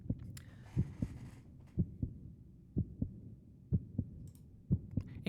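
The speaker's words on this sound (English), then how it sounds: "A faint knocking sound echoes from afar. I thought that was a heartbeat." A faint, distant knocking in a dark video game prologue, a slow, steady double thump like a heartbeat repeating about once a second, alone over a low hum.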